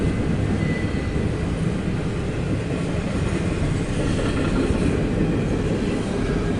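A CSX intermodal freight train rolls steadily past at Point of Rocks, a continuous loud rumble with faint wheel clatter throughout, no talking.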